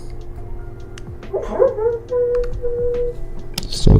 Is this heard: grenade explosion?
no